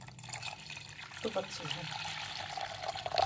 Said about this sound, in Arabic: حطيهم في حلة وحطي عليهم مية مغلية